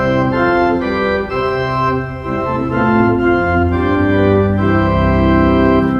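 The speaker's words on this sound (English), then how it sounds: "Now, principal chorus typically sounds like this." A real church pipe organ plays a principal chorus of 8, 4 and 2 foot stops in St Andrew's Church, holding loud, full sustained chords with shifting bass notes and no speech.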